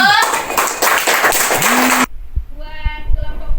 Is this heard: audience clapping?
yes